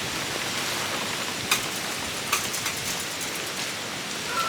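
Heavy, steady rain from Hurricane Helene pours down in a dense, even hiss at an animal sanctuary, with a few louder drips and splashes standing out briefly.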